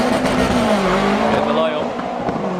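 A VW drag race car at a Volkswagen drag racing meet, a loud roaring engine and tyre noise sweeping past close by, with a commentator's voice running over it.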